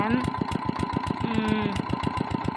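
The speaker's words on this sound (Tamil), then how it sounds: "நான் பேசுகிற சவுண்டு கூட கேட்குதான்னு தெரில ஏன்னா இன்ஜின் ஓடிட்டு இருக்கிறதுனால" A small irrigation water pump engine drawing water from a canal chugs steadily nearby with a fast, regular thumping beat and mechanical whine, loud and unbroken throughout.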